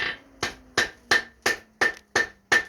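Light hammer taps on hot iron during forge welding, eight evenly spaced metallic strikes about three per second, each ringing briefly, close and clear with no talk.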